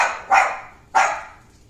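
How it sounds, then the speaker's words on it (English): A dog gives two loud, sharp barks close by, about half a second apart, each fading quickly with no talk over them. "My dog is loud sometimes."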